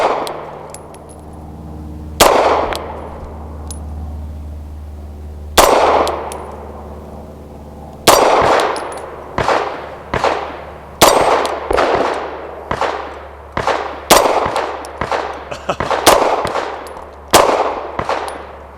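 Pistol shots from a Tisas B9R 1911 firing Fiocchi ammunition at an outdoor range, each sharp report followed by a ringing clang from a moving steel target, starting with sparse single shots and then a steady string of quick hits.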